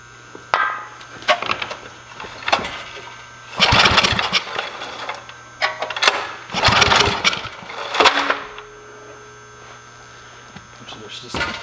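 A generator engine is cranked before a snowstorm in several loud, close bursts that sputter without settling into a steady run, with a constant low hum between attempts.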